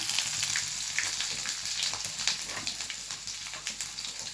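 Chopped ginger hitting hot oil with mustard seeds and curry leaves for lemon rice, a dense crackling sizzle with small pops throughout, close and loud, no voices.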